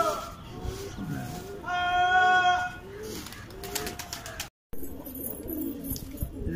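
Hyderabadi pigeons coo at a loft in soft, throaty repeated phrases, mixed with other bird calls and a brief whistled tone, before a short dropout and more scattered bird sounds.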